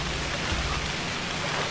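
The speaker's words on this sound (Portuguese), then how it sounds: "Nossa, a chuva tá pesada." Heavy rain in the survival game Stranded Deep, a steady dense hiss of downpour filling the whole moment with no pauses, loud and close.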